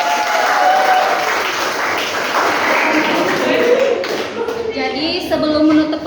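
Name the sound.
classroom applause for the winner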